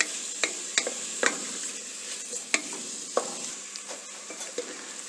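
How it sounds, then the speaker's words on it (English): Mushrooms sautéing in a pan as their released moisture cooks off, with a quiet hiss under repeated sharp spatula clicks and scrapes at an uneven rhythm. "We sauté these mushrooms till the moisture that is left by the mushrooms dries up"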